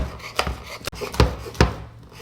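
A knife thinly slicing hot peppers on a cutting board produces several crisp, close chopping knocks at an uneven pace, with no talking.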